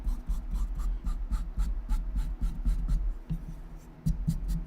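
Piano hammers are filed by hand in a workshop, giving close, repeated dry rasping strokes in a steady back-and-forth rhythm with no talking.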